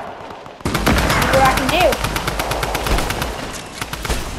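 Rapid SMG gunfire in a video game, a steady stream of close, loud shots that keeps going for several seconds while a voice talks briefly over it.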